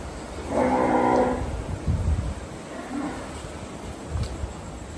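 Cattle on a large farm moo loudly and nearby, one long drawn-out low call followed by shorter, quieter lowing and some rustling background noise.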